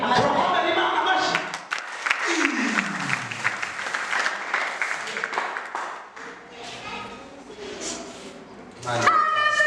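A church congregation claps and applauds together, a loud sustained burst of clapping that fades and swells again, with voices calling out over it.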